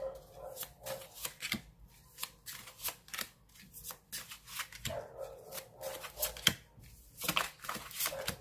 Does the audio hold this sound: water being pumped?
no